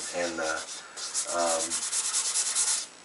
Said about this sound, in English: lightly sand this to clean up any areas where your hands have touched